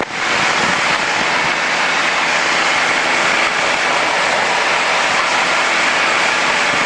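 Piper Cherokee 140 light aircraft climbing from 2,800 to 3,500 feet, its engine a loud, continuous broadband roar from inside the cabin, unbroken and steady throughout.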